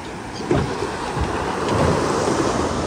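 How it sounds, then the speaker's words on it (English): Ocean water splashing and waves around a boat out on the Pacific, a steady rushing surge with wind buffeting the microphone and a few sharper splashes. "You see how beautiful the water splashes."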